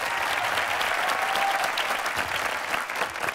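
Audience applause at a literary festival conversation event fills the hall, steady dense clapping from a crowd that holds its level, then begins thinning slightly toward the end.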